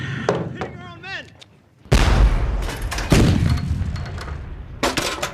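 Battle gunfire and artillery, with a sudden heavy boom followed by rolling rumble and further sharp shots and blasts, loud and close, while shouted voices cut in around the firing.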